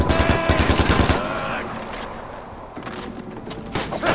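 A rapid burst of automatic gunfire in the video game Far Cry 4 rattles out, fades into a quieter stretch, then more shots crackle near the end.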